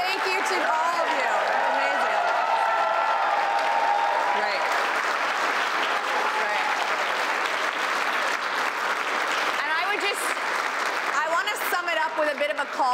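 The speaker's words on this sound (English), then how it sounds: "Huge round of applause." A large audience bursts into sustained applause and cheering, with dense clapping and shouting voices holding at a steady, loud level throughout and a few whoops standing out near the end.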